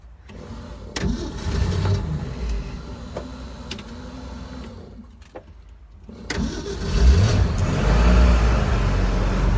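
The engine of a 1964 Thiokol Snowcat cranks and catches, settling into a rough mid-pitched idle, dips briefly, then restarts and revs up into a louder, steady running rumble close by.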